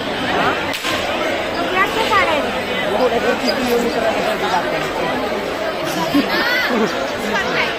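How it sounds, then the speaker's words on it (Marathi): Packed throng of worshippers at a Durga temple darshan in Thane, continuous near crowd chatter and overlapping voices, with a few sharp knocks or slaps cutting through the din. "खूप गर्दी आहे."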